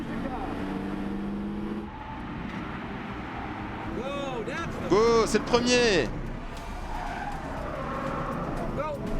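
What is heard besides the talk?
race car driving at full power on track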